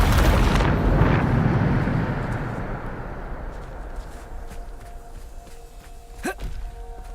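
Blasting and pushing spells cast in the Hogwarts Legacy video game: a loud explosive boom opens, then decays into a long rumbling tail, with a brief sharp magical zing near the end.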